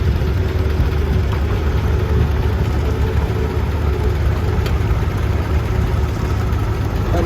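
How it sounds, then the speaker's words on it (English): A 1944 John Deere Model A tractor engine idles outdoors at a show parade with a steady, dense low rumble that runs the whole time, loud and continuous. "with a 1944 John Deere Model"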